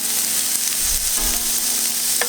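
Chopped onions, two kinds of ginger and garlic fry in a pan for a Sri Lankan stuffed roast chicken gravy, giving a steady close sizzle and crackle with light stirring scrapes.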